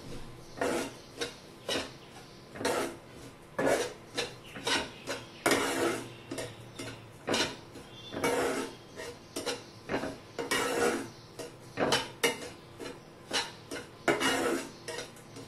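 Desiccated coconut roasting in a pan for dry-fruit modak, stirred with a steady run of rhythmic scraping and rubbing strokes against the metal pan, close and busy throughout, with no talking.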